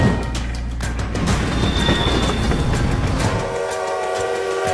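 A train from the film Murder on the Orient Express, travelling from Istanbul to London in winter, rumbles loudly with clacking wheels, then a long sustained horn blares near the end, with no voices.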